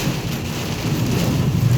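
Heavy rain pours steadily, a dense continuous wash of noise with low rumbling underneath, loud and close, with no voices.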